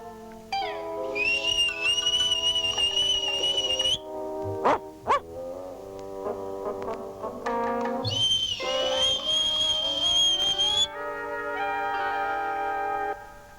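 A high, sustained whistle blown to call a dog sounds twice, each blast held for a few seconds, amid a melodic background with a couple of brief sharp yelps.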